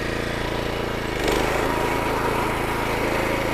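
A lawn mower running steadily near by while trimming a lawn perimeter, a constant droning engine hum that grows slightly louder partway through.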